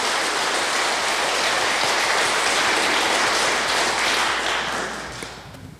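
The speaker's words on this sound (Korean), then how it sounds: "홍보국장으로 계시는 우리 신부님 환영의 박수." A parish gathering welcomes the diocesan communications director, a priest, with loud, dense applause from a full hall, steady and unbroken before tapering off at the end.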